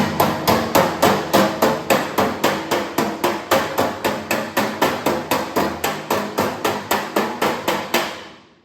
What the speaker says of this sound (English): Just going to do a little hammer and dolly here.